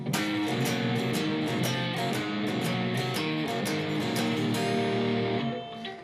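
Electric guitar plays part three of a shuffle at full tempo, a dense, driving, bouncing rhythm of picked notes and chords, loud and close, with no voices.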